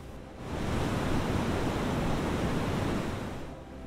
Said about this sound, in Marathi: सागराहून गार गार वारा वाहत होता. त्यात लाटांचा आवाज मिसळत होता.